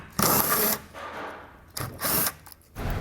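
A power driver zips out 7 mm head screws from a 2022 vehicle's front fascia in two separate bursts, each loud and close with a whining buzz, followed by a quieter shorter start at the end.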